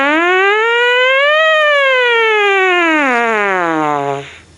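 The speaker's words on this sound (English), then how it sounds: "What I just played was an example of a siren," A brass instrument plays a continuous siren-like glissando, sliding up from low to high and then falling back down, loud and alone before fading out at the end.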